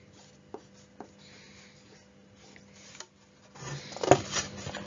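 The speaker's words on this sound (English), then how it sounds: "So let's write the past tense verb." Pen writing a word on paper, a few soft taps followed by a busier burst of scratchy strokes near the end, close and quiet with no voices.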